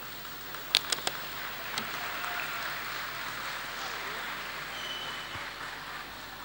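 Audience applause for a pair of dancers at a live music and dance show, a steady wash of clapping with a few sharp, close claps near the start.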